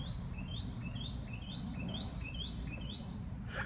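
Birds chirp in a steady series of about seven rising, repeated calls at roughly half-second intervals, fairly close and clear over a low rumbling background of ambient noise, with no one talking.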